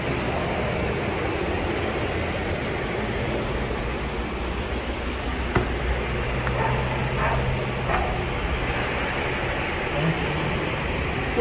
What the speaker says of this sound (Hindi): और दोस्तों ये कंटिन्यू कुत्ते भौंक रहे हैं बराबर।